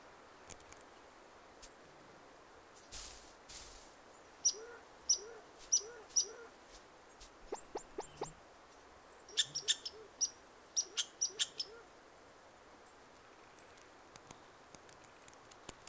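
Birds call in a quiet wooded forest: a series of repeated high, bright chirps and short whistled notes come in clusters, moderately close against a hushed background.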